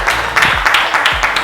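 A studio audience at a Holi poetry gathering claps loudly and continuously in dense, rhythmic bursts throughout the short stretch.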